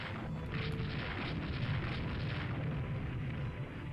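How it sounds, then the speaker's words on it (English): A torpedo strikes a warship in the naval strategy game Rule The Waves 2, giving a steady, dense low rumble of explosion noise that holds at an even level throughout with no clear separate blasts. "Hit by a torpedo."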